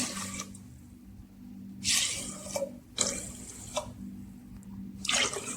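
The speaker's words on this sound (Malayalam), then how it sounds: "ഇതിലേക്ക് ആവശ്യമുള്ള വെള്ളം ഒഴിച്ചു കൊടുക്കാം" Water pours from a tap into a pot for Kerala karkidaka rice porridge, coming in several close splashing bursts separated by short pauses, over a low steady hum.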